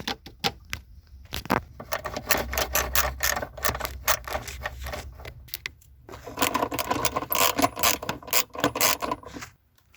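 A ratchet backing out bolts beside the steering column on the dashboard of a 2001 Jeep Grand Cherokee, rapid metallic clicking bursts near the microphone, with brief pauses and a denser run of clicks late on.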